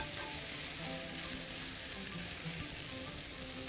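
Cut artichoke pieces sizzle and fry steadily in a hot pan while being stirred, a dense continuous crackle with occasional scraping, close and fairly loud, no voices.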